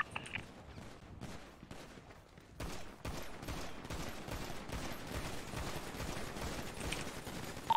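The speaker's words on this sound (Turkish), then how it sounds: "Arkadan birileri sıkıyor." Scattered gunfire from behind in a roleplay shooter video game, rapid bursts and single shots crackling at moderate distance throughout, fairly quiet and without talk.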